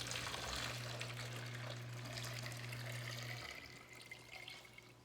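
Lime-and-water solution for preserving eggs pours and splashes into a container with a low, steady hum underneath, fairly quiet, tapering off toward the end.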